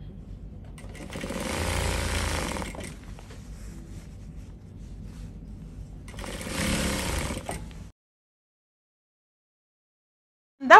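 A sewing machine stitches a twice-folded quarter-inch hem on a gathered kimono pencil dress in two close, whirring bursts of rapid needle chatter separated by a quieter pause, then falls silent.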